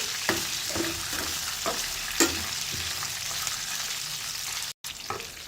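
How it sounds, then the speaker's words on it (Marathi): South Indian style lemon rice tempering being sautéed in a pan: a steady close sizzle with repeated stirring taps and scrapes of a spoon, continuing throughout with one brief dropout near the end. "एक मिनिटासाठी छान परतून घ्यायचं आहे।"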